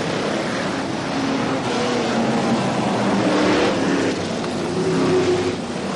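Formula One stock cars racing round Foxhall Heath Stadium in Ipswich, 1977: a dense, continuous roar of many engines close by, surging slightly as the pack accelerates, with no break in the din.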